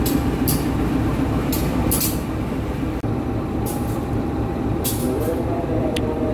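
A Bandung Raya local commuter train pulls into a station with a steady low rumble, punctuated by several sharp hissing bursts like air brakes, moderately loud and continuous throughout.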